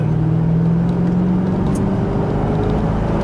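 A 2000 Chevrolet Corvette C5 with its 350-horsepower small-block V8 accelerates from inside the car, a loud, steady low engine drone with a rising tone and no talk over it.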